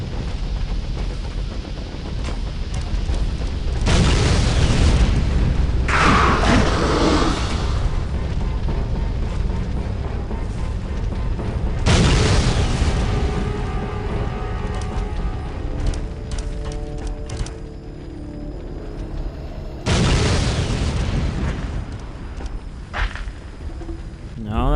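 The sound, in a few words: explosions in the video game Aliens versus Predator 2: Primal Hunt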